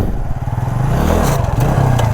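A motorcycle engine revs loud and close during a stunt-riding circle drill, a throaty throbbing rumble that rises and wavers as the clutch is let out, with no talking.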